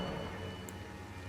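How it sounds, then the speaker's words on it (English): Steady rain falls in Elden Ring: Shadow of the Erdtree as a broad, even hiss of drops with no change over about a second, alone and moderately loud. "I don't really like this rain."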